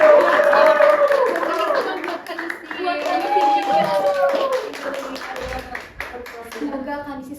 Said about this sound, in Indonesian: Dan untuk host kita yang luar biasa, kita tepuk tangan dong.